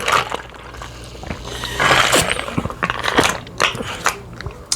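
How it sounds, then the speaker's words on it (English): A person drinks water close to the microphone, producing wet gulping, swallowing and small clicking mouth sounds in irregular bursts. "Sorry, I just gotta drink some water, y'all."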